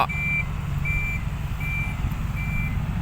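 Six-wheel dump truck backing up at an earthworks site for a four-lane road job, its reversing alarm giving four steady evenly spaced beeps over a continuous low engine rumble, close and loud, with no talking.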